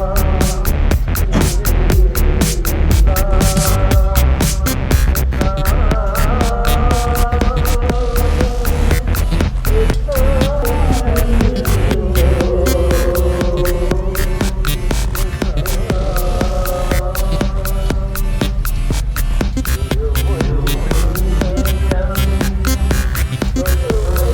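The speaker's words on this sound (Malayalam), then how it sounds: "ഇത് കരിമ്പിൻ ജ്യൂസിന്റെ മെഷീനാണ്." A sugarcane juice machine runs at the Kollam Pooram festival grounds in Asramam, giving off a loud, steady, throbbing drone that never lets up, with tonal festival sounds layered over it.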